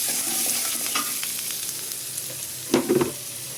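Chopped onions fry in a pan for a vegetable curry, a soft steady sizzle with stirring scrapes and a louder clatter of the spoon near the end.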